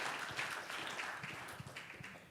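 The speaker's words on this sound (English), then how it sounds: "Let's give a big round of applause and thank you to all our panelists this afternoon" Applause from a conference audience thanking panelists at an electronic monitoring session, a steady soft patter of many hands clapping at a moderate distance, with no voices over it.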